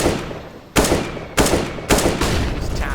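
Three sharp gunshot bursts in a Counter-Strike match at the Katowice 2019 tournament, Astralis against Ence, cracking out roughly every half second over a steady background din, loud and close.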